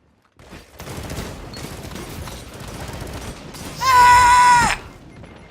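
Lord of Wolves shotgun firing in Destiny 2, a rapid stream of shots running for several seconds, then a loud ringing burst near the end as the weapon unloads many rounds at once.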